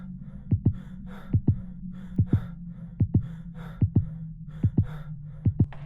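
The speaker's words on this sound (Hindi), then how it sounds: "सिमरन की धड़कन तेज होने लगती है।" An animated horror-story heartbeat effect set in a haunted cinema pounds in steady lub-dub pairs, loud and close, over a low droning hum with faint breathy texture.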